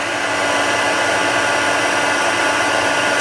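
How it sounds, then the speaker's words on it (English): A craft heat tool blows hot air to heat-set texture paste on a playing card, a loud, steady hairdryer-like roar that fills the whole stretch, close and continuous. "I'm just going to heat set this with my heat tool"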